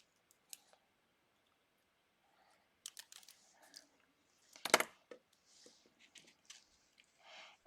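Adhesive sheet backing peeled away from die-cut cardstock, heard as sparse close crackles and small taps building to a sharp ripping burst, then scattered light rustles in a quiet room.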